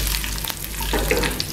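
Chopped onion and dried chilli fry in oil over a medium flame, giving a steady close sizzle with a few light stirring knocks and a faint low hum underneath; nobody speaks.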